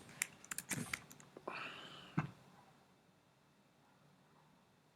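A brief burst of quick keyboard clicks near the start, then quiet room tone for the rest.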